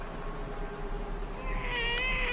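A cat meows from inside a bag, muffled and strained, with a rising cry near the end over a steady low background hum.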